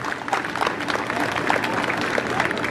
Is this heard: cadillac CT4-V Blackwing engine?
no